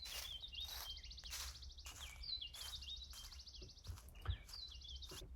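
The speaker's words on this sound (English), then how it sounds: "Bird 1 is to the right and bird 2 is to my left" Synthesized bird song in a spatial audio demo: repeated rapid trilling chirp phrases, bright and clear, recurring in short bursts with brief gaps, one bird seemingly placed right and another left.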